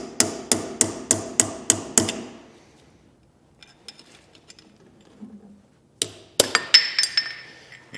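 Hammer tapping off a trailer hub grease cap: a quick run of seven sharp metallic clinks, a pause with faint scattered knocks, then another cluster of bright ringing hits, close and loud.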